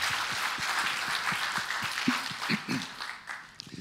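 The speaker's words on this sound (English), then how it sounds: "Please give a big applause." A conference crowd applauds a thanked organizer, a moderately loud wash of many clapping hands with a few distinct sharper claps that fades toward the end.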